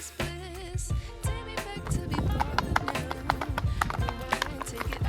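A mare on a farm clip-clops in a steady rhythm of hoof strikes, fairly close, mixed with background music and some voices talking.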